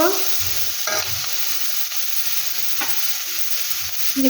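Onions fry in a pan for a curry, with low sizzling beneath a few spoon scrapes and stirring knocks spaced across a few seconds.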